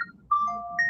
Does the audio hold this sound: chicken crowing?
no